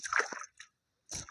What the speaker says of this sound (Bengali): আমরা কাটিং বোর্ডটা ভালো করে ধুয়ে নিচ্ছি